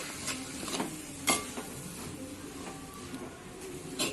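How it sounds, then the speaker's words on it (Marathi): Shegla vegetable bhaji fried and stirred in oil, a quiet low sizzle broken by several sharp spatula scrapes and taps spaced through the clip. "पहिली ही या तेलात चांगली फिरवून घ्यायची वरसून खालसून तिला चांगला अगदी भाजून घ्यायचा"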